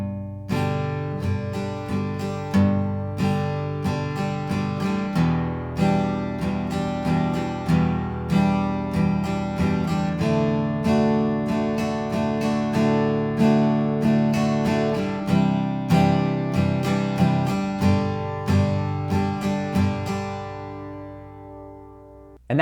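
Acoustic guitar strumming the chords of a song, each chord opened by a low bass note before a strum across the remaining strings, in a steady, moderately loud rhythm for over twenty seconds with no voice.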